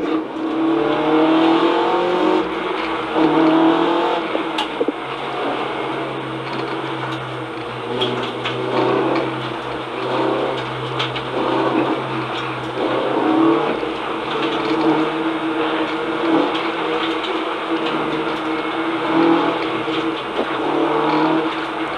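A race car engine drones steadily and close at Brands Hatch as the driver weaves to warm the tyres, its pitch rising and falling slightly through a continuous run without pauses.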